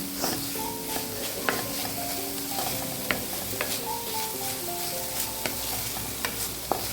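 Garlic sizzles in a little oil in a pan, a busy crackling fry punctuated by sharp scraping clicks from stirring, close and steady throughout.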